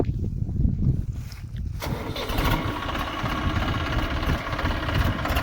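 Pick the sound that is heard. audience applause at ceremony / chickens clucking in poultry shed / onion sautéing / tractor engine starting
tractor engine starting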